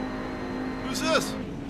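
A Ferrari race car in Forza Motorsport sweeps past with a brief, sharp engine whine that rises and falls over a steady background engine drone, while a voice talks.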